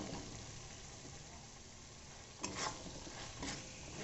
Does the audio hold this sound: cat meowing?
no